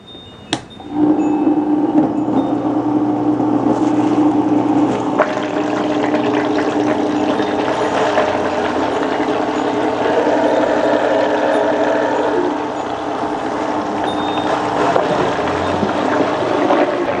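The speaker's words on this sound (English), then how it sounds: "I'm gonna mix the ingredients while I'm churning the milk at the same time." An ice cream maker churning plant-based coconut milk on its lowest setting runs with a steady, close mechanical whir and faint sloshing that starts abruptly after a brief click and continues evenly throughout.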